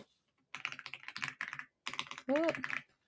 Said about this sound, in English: So we can just start typing whatever it is.